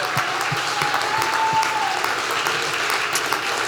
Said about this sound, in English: Can we get one last round of applause to everyone who performed here?